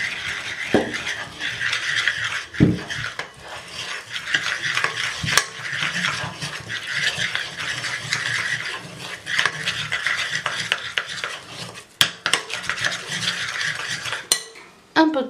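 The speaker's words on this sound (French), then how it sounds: "Ensuite, vous incorporez un peu de farine" A spoon stirs flour into tart batter in a bowl with steady, close scraping and churning strokes, continuous over a long stretch and broken by a few sharp taps against the rim near the end.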